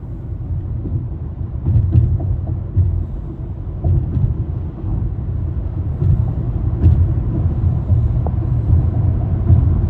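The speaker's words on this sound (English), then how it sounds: "you hear all the road noise" Steady low road rumble fills a car cabin cruising a highway on a long road trip, a continuous loud drone with small bumps and swells throughout, no talking.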